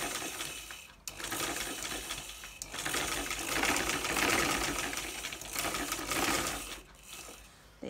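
Sewing machine stitching a neckline facing and zip onto a kameez, a fast continuous whirring rattle with brief pauses between runs, close and steady, no talking.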